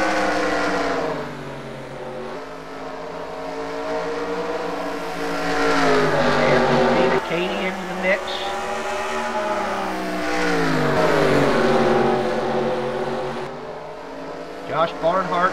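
Race cars in a heat race at Bristol, running side by side: loud, sustained engine drones that rise and fall as the cars pass, under steady commentary throughout.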